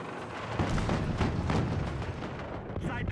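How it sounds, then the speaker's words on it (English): Rockets fired at a tank in Battlefield 6, heard as a dense barrage of booming blasts and explosions over a steady loud roar of battle noise, sustained throughout without pause. "Only 2 rockets to take out a tank."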